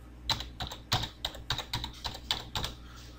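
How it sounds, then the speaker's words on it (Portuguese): Fingers tap out a password on a computer keyboard, about ten quick, close, fairly quiet key presses in an irregular rhythm with no talking. "Eu digito a senha que eu quero ter na Adobe Creative Cloud."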